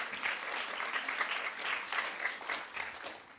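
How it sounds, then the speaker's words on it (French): An audience claps for a technical team, a moderately quiet round of applause with gently pulsing intensity, sustained across the whole stretch. "On peut les applaudir."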